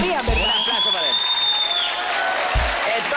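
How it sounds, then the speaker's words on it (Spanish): A studio audience on a TV dance show breaks into brief applause and cheering, mixed under music and voices. "Un aplauso para él."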